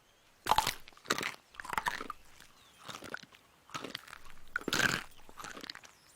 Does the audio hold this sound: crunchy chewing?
yes